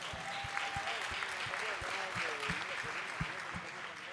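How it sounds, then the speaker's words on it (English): Crowd at a padel championship match in Cancun applauds the Cancun Waves team with steady, sustained clapping that runs throughout, mixed with crowd chatter and some voices over the top. "Let's give a round of applause for them."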